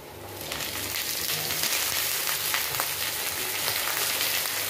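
Okra dropped into hot oil in a pan, breaking into a loud, dense sizzle with scattered crackles and pops that continues steadily, close up and without any voices.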